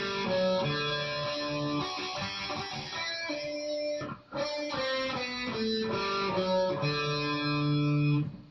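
Distorted electric guitar plays a riff, a sustained, heavily effected sequence of notes with a brief pause midway, loud and close with no voices.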